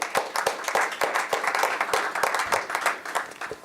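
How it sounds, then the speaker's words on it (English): Steady applause from a conference audience fills the clip, dense overlapping claps at a lively pace without a break. "Please give these gentlemen a round of applause."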